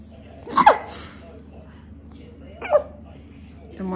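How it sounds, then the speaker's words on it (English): A baby hiccups twice, small sharp catches spaced about two seconds apart, close and fairly loud over a steady background hum. "Someone has the hiccups."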